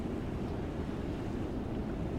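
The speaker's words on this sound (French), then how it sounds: "j'aime me laisser bercer par cette douce musique des vagues" Small waves lapping on the shore of a lagoon: a steady, soft wash of surf mixed with wind rumble, continuous and even, with no one speaking.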